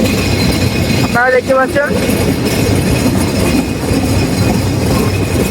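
The Simanta Express rolls into Chilahati railway station with a steady loud rumble and clatter of wheels and carriages that continues throughout, while someone speaks briefly near the start.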